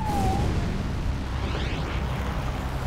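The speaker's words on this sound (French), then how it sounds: "Cinq explosions secouèrent Manhattan." Explosions in Manhattan, heavy rumbling booms that roll on continuously as one dense, loud low roar with no clear break and no voices.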